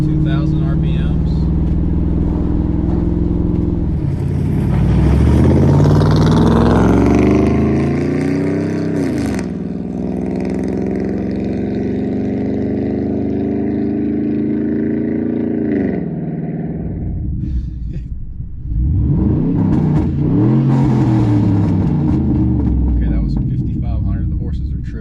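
Cammed 2006 GMC Sierra engine, loud and close, rumbling with a choppy idle and rising into repeated revs that climb and fall, the exhaust note sweeping up and settling back, with a short dip before another rev.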